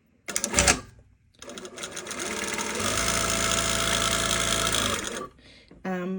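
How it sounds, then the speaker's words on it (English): A sewing machine stitches a box around a zipper on muslin at a short stitch length: a short opening burst, then a long steady mechanical whirr for about three seconds, ending with a pause and a final brief run. "I'm just going to sew exactly around this box."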